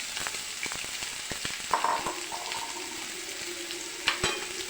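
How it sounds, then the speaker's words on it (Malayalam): Onions fry in a pan for an egg roast, making a steady close sizzle with sharp clicks and scrapes from stirring and a couple of louder hissing bursts. "സവോള ഇട്ട് കൊടുക്കുകയാണ്."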